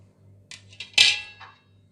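Metal idli steamer plates clink and clatter together in a few quick, close knocks, one sharp ringing hit standing out among lighter taps.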